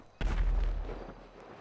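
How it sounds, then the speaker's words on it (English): A loud boom bursts out in a Los Santos-set video game, then a long rumbling roll that slowly fades, with no talk over it. "I want to see what all this, like, explosions are about."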